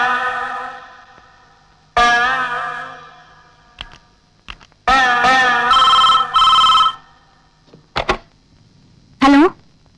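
A telephone rings in loud, harmonic bursts, several rings separated by short gaps, with clicks and rustles in the quiet stretches between them.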